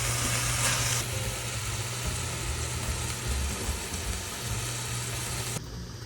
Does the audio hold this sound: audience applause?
no